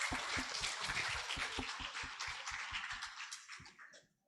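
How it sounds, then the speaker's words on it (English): Audience applause for a keynote speaker at an academic conference session, dense clapping that holds steady and then thins out and fades near the end. "give a big applause for Mr. Tajul"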